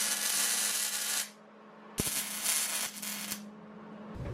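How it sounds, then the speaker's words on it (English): A tab is welded onto a sissy bar for a Honda Shadow bobber motorcycle, with two steady bursts of harsh, crackling welding hiss separated by a short pause, close and fairly loud. "next we're gonna be welding the tab to the sissy bar."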